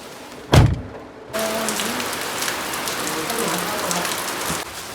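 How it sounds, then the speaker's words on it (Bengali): Heavy rain pours down in a dense, steady roar that starts abruptly and holds for several seconds, with a single sharp thump just before it, like a door closing. "পুরা জোরে বৃষ্টি শুরু, রাস্তা কিছু দেখাই যাচ্ছে না ঠিক মতো।"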